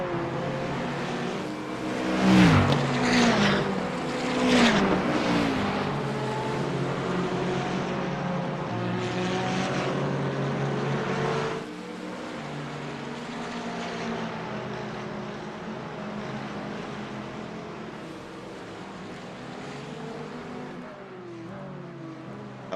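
A McLaren GT4 race car and its rivals in a racing video game howl past, engines rising and falling through gear changes. Louder and busier at first, the sound settles into a steady, slightly quieter drone with no talking.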